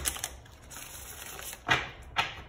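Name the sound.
tarot cards being shuffled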